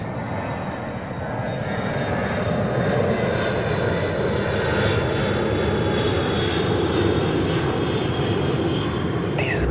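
Aircraft engine drone during an aeroplane race, a steady loud roar that holds evenly from start to finish with no break, alone and without talk.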